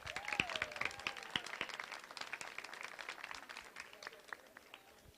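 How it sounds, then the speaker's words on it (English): Audience applause at a school Model United Nations closing ceremony, a steady patter of many hands clapping throughout at moderate distance, with a voice over a loudspeaker faintly underneath at the start. "Congrats, applause."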